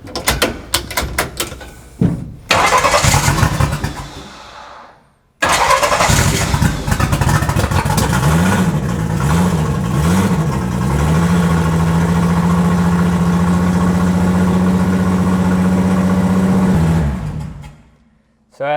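A rear-wheel-drive turbocharged VR6 making over 1000 hp, fed by a mechanical fuel pump, cranks, catches and fires into a loud, rough idle that holds steady and then cuts off. Brief sounds come before the start.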